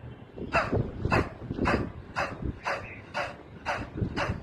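A person imitates a dog's panting in a dog-breath pranayama exercise, forcing breath out from the throat with the mouth wide open: eight rhythmic, breathy bursts at an even, quick pace, close and fairly loud.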